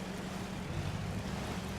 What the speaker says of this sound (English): there's a little bit of movement to this water